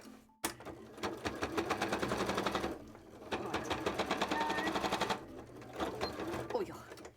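A sewing machine stitches scales for a cosplay tail, running in two long, rapid bursts close by with a short pause between them and a brief stop near the start.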